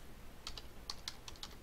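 Soft keystrokes tap out a username on a computer keyboard, around eight light clicks in quick, uneven succession over a faint room hum.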